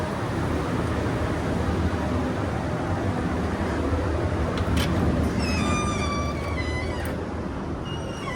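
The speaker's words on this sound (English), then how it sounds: "So it's nice aircon in here." Steady broadband air-conditioning hum fills the cabin of a liveaboard dive boat in the Red Sea, constant and fairly loud throughout, with faint chirping tones briefly rising over it midway.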